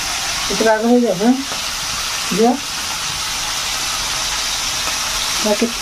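Food frying in a pan, a steady hiss and sizzle running throughout at moderate loudness, with a voice speaking over it in short bursts.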